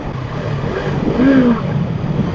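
Yamaha YZF R3 twin-cylinder motorcycle engine revving up in a single brief rise and fall over a steady idle, loud and close.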